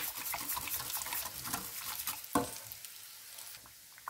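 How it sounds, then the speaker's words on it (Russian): Polenta is stirred in a pot, giving a soft, continuous wet scraping and bubbling that eases off toward the end, with one sharper knock partway through. "А нашу поленту постоянно помешиваем"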